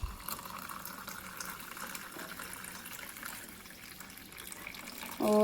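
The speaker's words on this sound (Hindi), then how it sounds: "और बस अब इसमें गर्म पानी डालेंगे" Hot water is poured into a cup of black coffee with ghee, a continuous soft splashing and trickling that runs for several seconds at close range and ends in a brief louder clatter.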